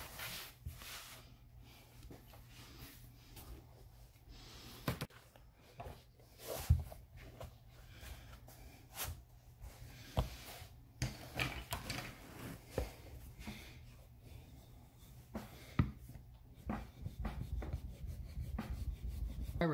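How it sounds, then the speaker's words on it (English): A rotary cutter trims excess leather for medieval boots, making faint, close rolling and scraping cuts in short irregular strokes, with occasional soft knocks. "So I'm going to use my rotary cutter and trim off the excess."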